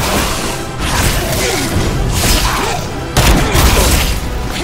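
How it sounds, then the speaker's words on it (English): Ranged-ability gunfire in the Evil Dead video game, a dense stretch of booming shots and crashing impacts layered over busy game effects, loud and continuous with a heavier burst near the end. "activated my ranged ability, so shoot away"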